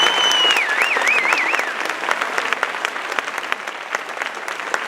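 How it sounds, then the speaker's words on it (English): Steady, full applause from an audience at a senior awards ceremony, dense clapping held at an even level throughout, with a high whistle-like cheer warbling briefly near the start. "You deserve a round of applause."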